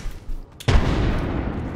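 A frag grenade detonates in the Apex Legends video game, a sudden loud boom breaking through quieter background and leaving a sustained rumbling wash afterward.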